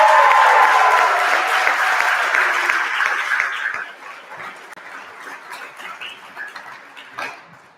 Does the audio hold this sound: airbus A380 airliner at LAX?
no